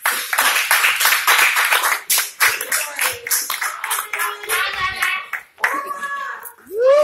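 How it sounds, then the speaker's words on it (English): An audience at a talent show and fundraiser applauds with dense, steady clapping throughout, with a few voices and cheers rising over it toward the end. "I want you to give a warm round of applause for Ms. Sharice C. Moran."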